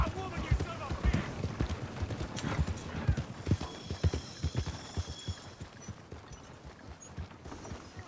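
Horse hooves clip-clop at a walk along a dusty Western town street in the Red Dead Redemption video game, an irregular, fairly close series of hoof beats with faint background sounds and no talk over them.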